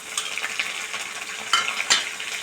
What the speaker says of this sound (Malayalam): ഇതും കൂടി ഇട്ട് നന്നായി ഇളക്കുക.